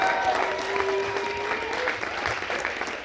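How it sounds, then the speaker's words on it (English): A live audience at a songwriters' round night applauds steadily and fairly loudly, a continuous wash of clapping with a few voices and a fading tone running beneath. "Please give this round a huge round of applause."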